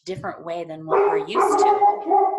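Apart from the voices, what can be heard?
dog barking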